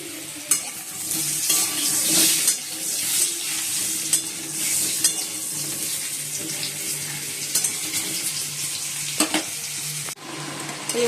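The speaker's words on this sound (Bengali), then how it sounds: "কড়াইতে তেল দিয়ে দিয়েছি, এবার আলুগুলো দেবো" Potato pieces frying in hot oil in a wok make a steady close crackling sizzle, with stirring scrapes and a few sharper clatters throughout and no talking.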